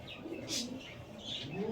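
An adult green male pigeon with white eyes coos softly at a loft where Madras, desi Girribaz and racer pigeons are kept, a faint low murmur under quiet room noise.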